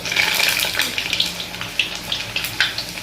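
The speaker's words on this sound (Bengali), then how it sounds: "ওই যে মেয়ে লুচি কটা ভেজে নিচ্ছে" Luchi, a Bengali puffed bread, frying in hot oil: a bright, continuous sizzle with scattered crackles and pops, close by and fairly loud, with no talking.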